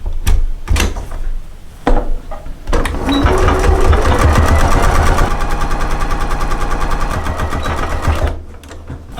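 A sewing machine stitches around the edge of a fabric bowl cover, a loud close mechanical whir with a fast, even needle clatter running several seconds after a few start-up thumps and stopping near the end.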